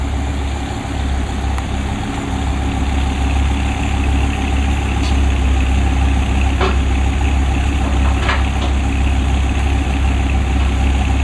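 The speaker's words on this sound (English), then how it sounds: "Looks like we've got a Viper coming out of the shop with a blower on it" A Dodge Viper engine fitted with a supercharger blower runs at a steady idle, a loud, continuous low rumble with no revving and no voices throughout.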